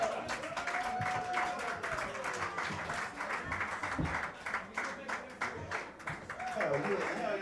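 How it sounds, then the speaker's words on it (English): Applause from a dive bar comedy audience for comedian Alex Kruger, steady clapping and some cheering throughout while someone talks and exclaims over it. "Round of applause for Alex Kruger"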